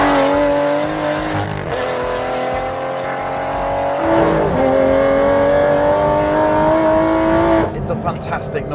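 An Aston Martin Vantage GT12 engine roars loudly from inside the car while driving, revving up and down through gear changes with a rich, rising and falling tone, a voice talking over it.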